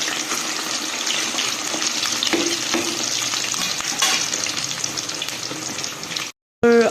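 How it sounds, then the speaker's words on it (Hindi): Food frying in hot oil in a home kitchen, a steady close sizzle and crackle with the occasional clink of stirring, running continuously before a brief cutoff at the end. "ये हो रहा है फ्राई"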